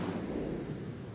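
Artillery fire in a video game lands as a single low, rumbling boom that rolls on and slowly fades over about a second.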